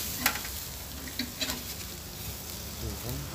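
Soy sauce and oil basting ikan mas (carp) over a grill bubble and sizzle at a moderate level with a few sharp pops and crackles, close by, with no talk.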